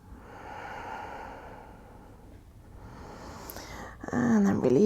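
Slow, audible Ujjayi breaths drawn through a constricted throat during a yoga flow, soft and close, with a louder, rougher exhale at the end.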